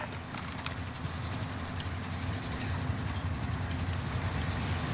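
Train rolling past in Call of Duty Warzone, set in Verdansk at night, a steady loud rumble with rhythmic clacking across the whole stretch, no talk over it.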